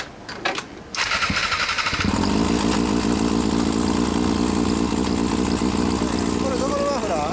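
Kawasaki Balius motorcycle with an aftermarket exhaust is started after a brief pause and settles into a loud, steady, rumbling idle close by, with some voices underneath.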